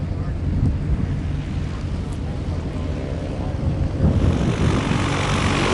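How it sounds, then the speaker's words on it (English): A small propeller airplane at a fly-in taxis back after landing, its engine a steady low drone that swells somewhat louder near the end, with a voice talking faintly in the background. "Well, Carl, we've got one plane that looks like it just landed and is coming back in."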